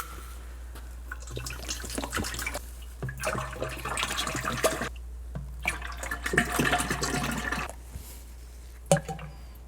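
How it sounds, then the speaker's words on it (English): Fluid being poured into a Toyota during routine fluid service, a liquid glugging and splashing in bursts with short pauses between pours, fairly close and steady over a low hum. "So, I'm gonna add our fluid here."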